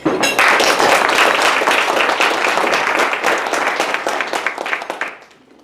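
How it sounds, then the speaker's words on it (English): Loud, close audience applause at a school district recognitions and announcements meeting, dense clapping that starts abruptly, holds strongly for several seconds, then thins out and fades away near the end. "I just wanted to give everybody a round of applause for what we've done so far"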